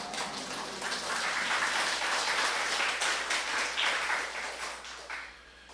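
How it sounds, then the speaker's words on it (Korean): Congregation applauding during a Sunday Easter worship service in a church, sustained clapping from many people, moderately distant, swelling then tapering off toward the end. "예수님 부활하셨습니다 하며 영광의 박수 돌리겠습니다."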